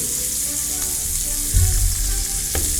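A ribeye steak sizzling in a dry pan in nothing but its own fat, a loud, steady dense hiss with a brief heavier surge midway and a couple of faint clicks, no talking.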